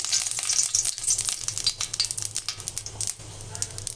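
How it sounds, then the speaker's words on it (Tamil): Oil heats in a kadai pan with a crackly, uneven sizzle, sputtering in irregular bursts close by and settling to a lighter hiss toward the end. "ஒரு கடாயில் கொஞ்சமாக எண்ணெய் விட்டுட்டு"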